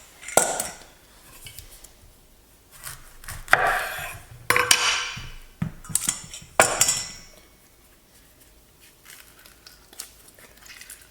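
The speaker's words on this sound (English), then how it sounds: "We are going to cut a lemon and use the juice from half the lemon." A knife cutting a lemon in half in a home kitchen while making a Mediterranean chickpea salad, heard as several close, sharp clinks and scrapes of blade on board and dish in bursts, with no talking.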